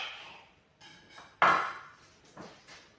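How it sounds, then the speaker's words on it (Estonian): A knife cuts through a peeled onion into quarters on a board, giving a few soft cuts and one sharp, loud chop midway, with faint handling noise around it. "Lõikame selle kooritud sibula 4-ks."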